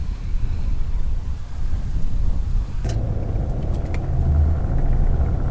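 A car climbs a narrow one-lane road deep in Lualualei Valley on Oahu's western side, its steady engine and tire rumble close and continuous, with wind buffeting the microphone throughout.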